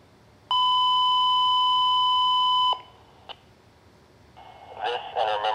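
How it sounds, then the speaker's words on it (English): A fire department last alarm sounded for a September 11 remembrance: one loud, steady electronic tone held about two seconds, then a short blip, followed by faint rustling and distant noise. "444 being sounded as the last alarm for all those who perished on September 11th, 2001"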